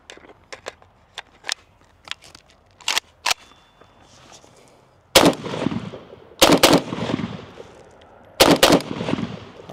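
Palmetto State Armory Krink rifle fed from a Circle 10 magazine, firing outdoors: scattered sharp single shots early, then loud close bursts of rapid gunfire with ringing echoes between them.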